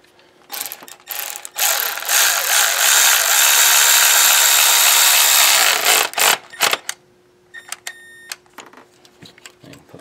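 A ratchet tightens the coil bolts on a 2008 Ford Taurus during a tune-up. A long, loud run of rapid clicking is followed by short, quieter bursts of ratcheting, close up.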